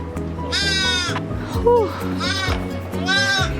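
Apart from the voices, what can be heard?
lamb bleating on a farm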